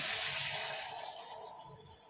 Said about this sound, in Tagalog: lagyan naman natin ng konting tubig.